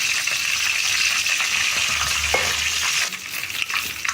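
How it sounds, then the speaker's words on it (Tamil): Mustard seeds spluttering and popping in hot oil in a pan while making a green turkey berry kuzhambu, a loud steady close sizzle that eases slightly toward the end, with no talking. "கடுகு நல்லா பொரியுது"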